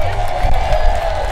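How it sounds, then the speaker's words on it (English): Loud crowd applause and cheering fill a hall during a 2017 Hall of Fame induction ceremony, a dense continuous wash of clapping with a voice faintly mixed in. "Give a big round of applause."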